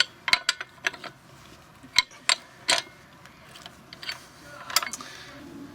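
Clicking ratchet turns and metallic clanks come from a wrench tightening wheel nuts on a Vauxhall Opel car, in short uneven bursts close by with small gaps between them.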